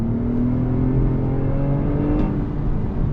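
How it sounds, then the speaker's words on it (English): 2021 Toyota Avalon TRD sedan with a catback exhaust gives a steady, loud, close engine drone under acceleration, with a brief dip around a downshift and no speech. "you are getting a sporty exhaust note from that catback exhaust"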